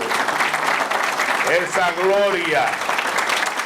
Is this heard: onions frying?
no